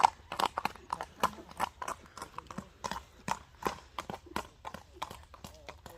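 A Kyrgyz Karabair horse walks on asphalt, its hooves clip-clopping in a steady, close rhythm of sharp knocks throughout, with faint voices in the background.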